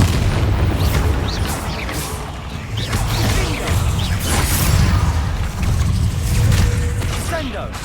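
Bombarda blasting spells detonate in Hogwarts Legacy, a run of deep, booming blasts and crashing bursts over a constant rumble, with a voice talking now and then amid the explosions.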